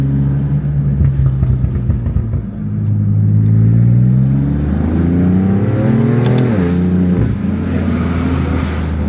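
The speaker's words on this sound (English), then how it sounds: "I am loving those boost noises, Alex." Several hypercars rev hard one after another during Monterey Car Week 2024, loud engine rumble rising and falling with sharp turbo boost whooshes and flutters between pulls.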